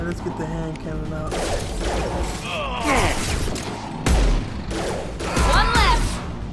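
Hand cannon pistol shots in the video game Mass Effect 2, a few sharp bangs amid a battle soundscape, with voices talking over the action.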